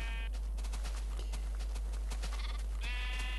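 Bleating sheep in Minecraft call out over a constant low hum, with scattered clip-clop hoof sounds between the bleats.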